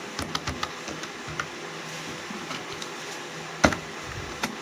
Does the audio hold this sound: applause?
no